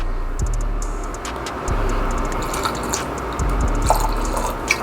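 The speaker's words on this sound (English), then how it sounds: "Let me pour a little bit more of mine." Don Julio 1942 tequila pours into a glass with a faint liquid trickle and a few small drips and clinks, quiet over a low background hum.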